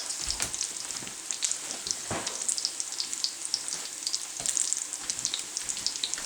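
Bacon and potatoes fry in a pan with a close, busy sizzle, crackling and spitting with scattered sharp pops throughout.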